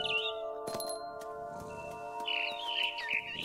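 Birds chirp in the video game What Remains of Edith Finch, giving short high tweets and trills over a sustained tonal ambient background, with a sharp click partway through.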